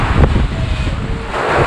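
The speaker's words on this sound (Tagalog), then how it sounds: "Ito yung hangin. Grabe." Strong wind from Typhoon Florita in Baggao, Cagayan, roaring loudly as a rough, buffeting gust against the microphone, close and continuous.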